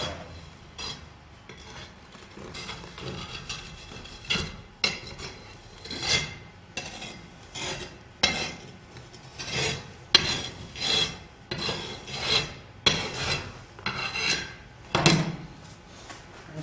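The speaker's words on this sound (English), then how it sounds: "I need this to sit flat, so I'm just going to scrape a flat layer out." Scraping moulding sand flat in a casting box gives repeated rasping strokes, roughly one per second, close and fairly faint, with no talk.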